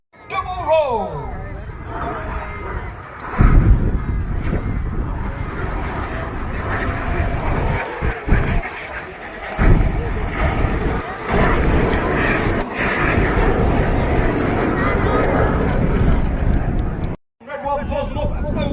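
Red Arrows-style display team jets performing aerobatics at an Armed Forces Day air show in Newtownards, a loud roaring jet rush that swells and fades as aircraft pass, under a commentator's voice and crowd babble.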